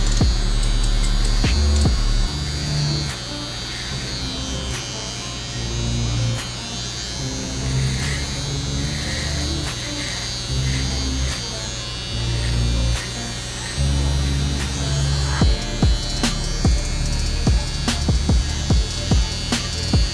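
Slimline Pro trimmer clipping a dog's longer hair, a close, steady electric buzz that dips and surges as the blade moves through the coat, with short clicks near the end.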